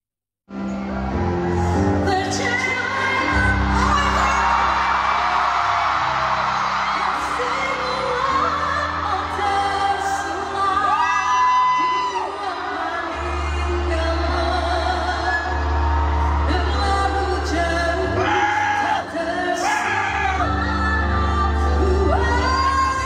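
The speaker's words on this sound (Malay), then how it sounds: "mendapat sorakan gemuruh Satu Axiata Arena Bukit Jalil" A concert crowd at Axiata Arena Bukit Jalil cheers and shouts loudly and continuously, with a singer and music sounding beneath the roar for over twenty seconds.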